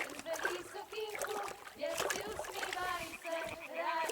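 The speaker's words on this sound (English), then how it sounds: "Throw a stone in the water near her to lure her away." A stone splashes into water in the video game Kingdom Come Deliverance II, a short wet plop and splatter near a character, with voices talking over it.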